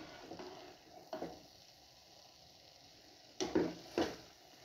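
Sweet zarda rice, flavored with a few drops of kewra, is mixed in a pot, giving soft intermittent scrapes and stirring bursts with quiet pauses between, close and fairly faint.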